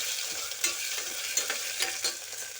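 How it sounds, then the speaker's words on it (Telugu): Baby potatoes tossed into a hot oiled pan sizzle loudly while a spoon stirs them, with several sharp scraping clinks over the steady frying hiss. "ఆలు వేసుకుంటున్నాను"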